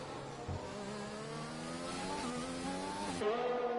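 Race cars in a video game league race, engines droning steadily with rising revs and a sharp pitch change near the end, moderately loud and continuous without talk.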